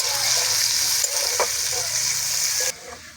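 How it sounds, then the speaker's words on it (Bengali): Chopped onion dropped into hot spiced oil for chicken ghugni, with a loud close sizzle that carries through a few stirring scrapes and drops off sharply near the end. "এবার পেঁয়াজ কুচি রেখে দিয়েছিলাম, দিয়ে দিচ্ছি। পেঁয়াজটাকে ভালো করে ভেজে নেব।"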